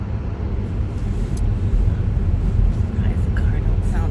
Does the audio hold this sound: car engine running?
yes